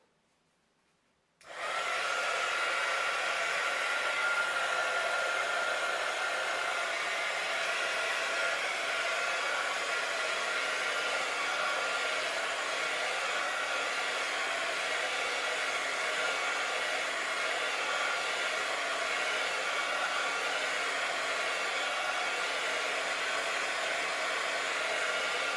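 A hair dryer blowing on a mixed media art page, switching on after a brief silence and then running as a steady, loud, continuous whoosh with no talking.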